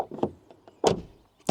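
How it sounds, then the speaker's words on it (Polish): The door of a 2002 Mercedes ML55 AMG shuts and opens, giving a few solid mechanical thunks and latch clicks close by, with short pauses between them. "Dźwięk zamykania i otwierania drzwi."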